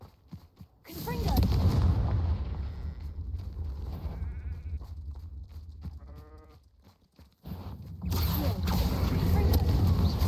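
Confringo fire spell blasts in the video game Hogwarts Legacy: a loud booming burst near the start swells into a sustained roar, then a second heavy blast hits about three-quarters through, with sharp crackles riding the low rumble.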